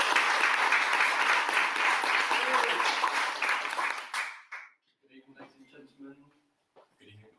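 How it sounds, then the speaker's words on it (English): A round of audience applause for a speaker at a business presentation rings out loud and dense for about four seconds, then cuts off, leaving quiet scattered talk. "So if everyone would like to give a round of applause to Ben."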